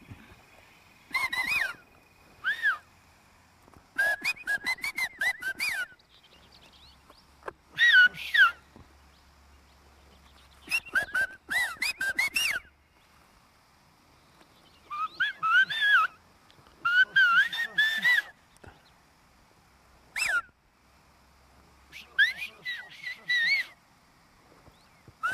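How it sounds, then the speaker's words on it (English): Bursts of shrill, pitch-gliding whistles come in phrases separated by pauses, like a conversation carried entirely in whistling, heard fairly close against a quiet background. "I had to ask Marcelino if they could whistle everything they could say"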